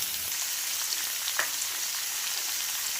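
Chicken frying in a pan with chopped tomato and spices, a steady close sizzle and crackle running throughout with a soft stir, no speech.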